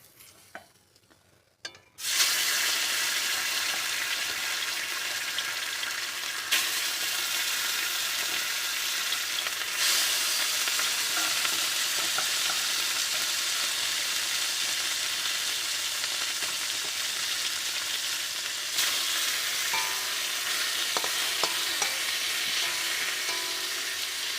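Fish frying in hot oil, a loud, dense sizzle that bursts in after a brief quiet start and crackles steadily to the end.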